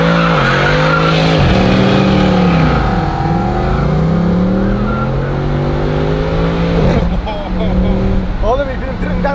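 A Mercedes-Benz C63 AMG engine pulls hard through the gears, its loud roar rising in pitch and dropping at each shift, with someone talking over it inside the car.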